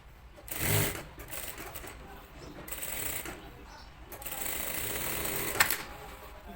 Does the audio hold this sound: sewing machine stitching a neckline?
yes